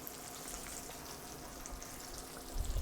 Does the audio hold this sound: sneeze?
no